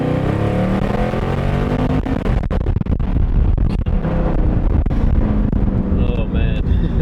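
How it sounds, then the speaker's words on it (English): Dodge Charger Scat Pack engine accelerating as heard from inside the cabin, a loud rising roar with shifting tone and wind rush, with voices talking over it. "we're gonna get a flyby with me in the car so you guys can like hear and see what it looks like from inside the car"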